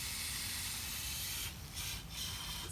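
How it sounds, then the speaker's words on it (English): A sprayer mists liquid soil feed made with molasses over a dog outdoors, a loud continuous hiss with two brief dips where the spray pauses. "even though I shouldn't necessarily be spraying my dog"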